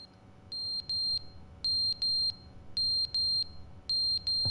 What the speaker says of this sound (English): The fire alarm's out of batteries.